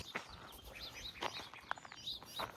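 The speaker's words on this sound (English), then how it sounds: "for anyone who doesn't know what house finch begging calls sound like, you're hearing them right now" Soft, high chirping calls of house finch young begging outdoors in a canyon park, a few short repeated peeps scattered over a steady background of other distant birds.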